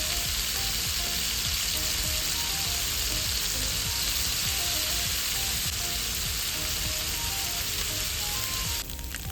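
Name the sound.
egg frying in a pan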